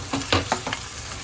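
Chopped onion, green chilli and curry leaves hit hot oil in a pan, giving a few short crackling bursts and stirring scrapes over a soft steady sizzle, close by and fairly quiet, with no one talking.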